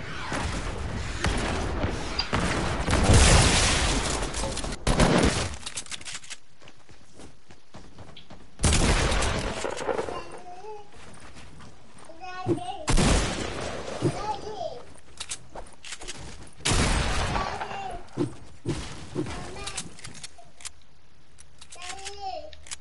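Bursts of gunfire in a video game, loud broadband volleys repeating at irregular intervals with short gaps between them, with a young voice talking and babbling over the shooting.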